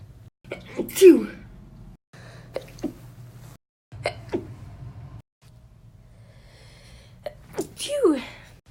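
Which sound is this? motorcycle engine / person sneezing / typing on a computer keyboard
person sneezing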